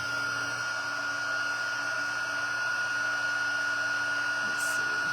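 Heat tool blowing hot air over a crafted spinner card, a steady close whooshing whir with a constant tonal whine, continuous and unbroken throughout.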